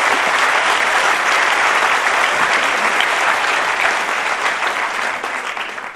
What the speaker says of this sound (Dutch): Mag ik een klein applaus voor Stijn Rutte en onze verteller Ton Hendricks